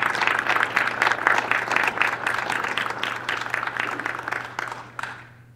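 An audience at a grantee celebration applauds the city, dense clapping from many hands that holds steady for several seconds before thinning and fading out at the end.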